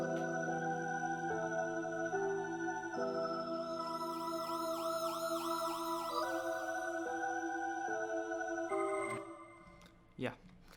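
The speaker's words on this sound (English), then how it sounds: "with that dark piano, the square pad and this organ" A dark piano, a square-wave pad and an organ play together in an FL Studio hip hop beat, layered sustained chords changing every second or so, with a sweeping shimmer in the middle before fading to a brief hit.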